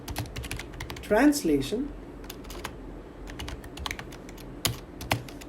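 Rapid keystrokes on a computer keyboard as code is written in Unity DOTS, a steady run of light, close clicks with brief pauses, alongside a voice speaking throughout.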